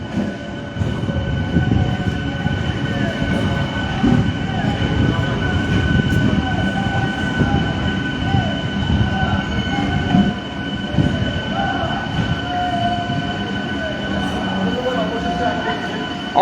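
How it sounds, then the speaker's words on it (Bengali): An inaugural special train pulls into platform four at Krishnanagar City Junction, a loud, close rumble of wheels and carriages with a steady mechanical hum and faint squeals, with people talking over it. "কৃষ্ণনগরের চার নম্বর প্ল্যাটফর্মে এসে পৌঁছালো কৃষ্ণনগর ইনাগুরাল স্পেশাল ট্রেন"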